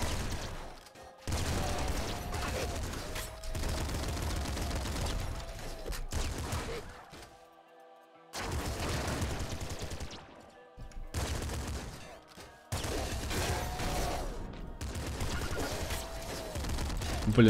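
Sustained minigun fire in the Nuclear Throne video game, long loud rattling bursts broken by short pauses, with sci-fi weapon and impact effects layered over the continuous fusillade.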